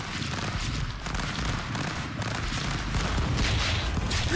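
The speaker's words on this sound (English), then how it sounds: "Jesus, that shotgun! It has such impact." Shotgun fire in Stick Fight: The Game forms a dense, continuous barrage of heavy booming blasts that builds slightly louder toward the end.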